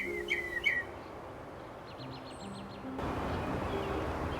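Birds calling in a Jewish cemetery in Queens: several short chirps and a faint hooting call up close, then a steady distant chorus and ambient hum.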